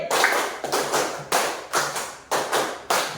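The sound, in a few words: class clapping a rhythm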